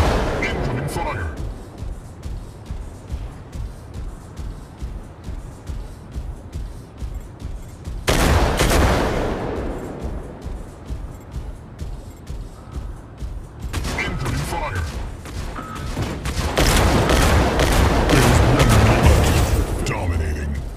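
Weapons fire in the mech combat game Mech Arena, with rapid volleys of shots and booms swelling into loud bursts of heavy fire mixed with game effects and voice lines.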